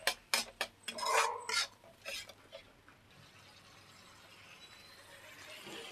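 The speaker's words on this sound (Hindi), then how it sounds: "इसको हम लगातार चलाते रहेंगे, नहीं तो दही फट जाएगा ये मसाले में" A spoon scrapes and taps against a pan while curd is stirred into a spice masala. Quick close clinks come at the start, then give way to a faint, steady background hiss.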